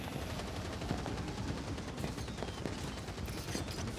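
Gun rat firing its gun in Warhammer Vermintide, a steady crackle of rapid shots running throughout under dense, loud game noise.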